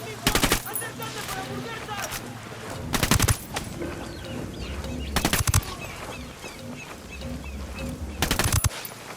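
Bursts of automatic gunfire from Ghost Recon Wildlands, with several loud volleys at roughly two-second intervals over a busy combat background of scattered shots, and some talk mixed in.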